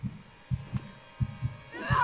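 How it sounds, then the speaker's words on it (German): Heartbeat in the video game Divinity II: Developer's Cut, a steady low thumping pulse of paired beats repeating about every half second, fairly close and prominent, with a faint tonal swell near the end. "Ich höre wirklich hier Herzschlagen."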